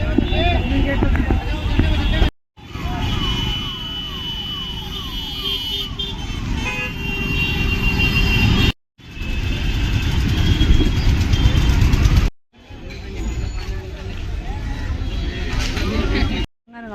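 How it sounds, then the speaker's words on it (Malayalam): Heavy Delhi street traffic near the Red Fort at night, a dense continuous roar of engines with scattered car horns, broken by a few brief silences, while a person speaks over it. "ഫുള്ളിവിടെ ട്രാഫിക്കാണല്ലോ ഒരു രക്ഷയില്ലാത്ത ട്രാഫിക് കിട്ടാണ്"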